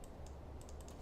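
A computer keyboard is typed on, a short run of faint, quick key clicks in a quiet room with no one speaking.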